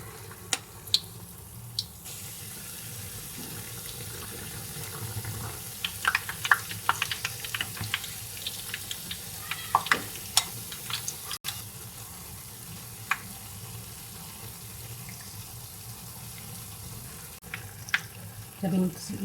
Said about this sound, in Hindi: हम अपने बड़े जो हैं वो फ्राई करेंगे